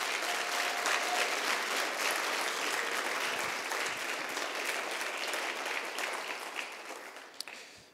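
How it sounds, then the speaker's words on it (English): Sustained applause from an audience honoring participants at a graduate student research competition award ceremony, a steady dense wash of clapping that carries through and slowly thins near the end. "So please, a round of applause for all of our participants."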